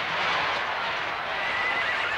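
A cartoon horse whinnies loudly and continuously, a bright, shrill neigh filling the whole moment with faint hoof clip-clops mixed in and no talking.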